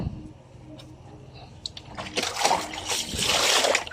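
Water is poured and splashes over soaped items being rinsed, building from soft trickles and clinks to a louder, steady splashing near the end.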